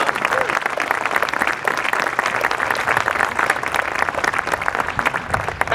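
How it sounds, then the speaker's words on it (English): A civic crowd at a Lexington 250th anniversary ceremony gives a dense, steady round of applause, many hands clapping together close by for several seconds without a break. "who really needs a round of applause"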